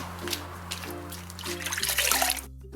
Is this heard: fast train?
no